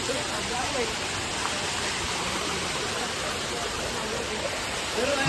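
Loud, steady rush of water falling by the temple steps at Shri Ekvira Aai temple fills the whole clip, broadband and continuous, with a faint voice briefly audible near the end.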